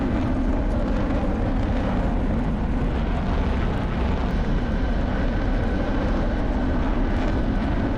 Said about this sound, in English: I'm going to taxi my MiG-29 back to its parking spot just for fun